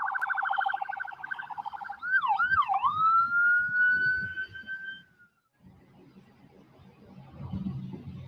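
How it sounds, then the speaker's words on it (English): An ambulance siren wails loudly at a work site, its tone rising and sweeping in a few fast yelps before holding a long steady note, then cutting out and leaving low background rumble and movement. "Oh, here comes the ambulance."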